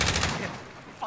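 Gunfire in the video game Warzone: a quick burst of several close shots at the start, then it fades into a decaying echo with one more faint pop at the end.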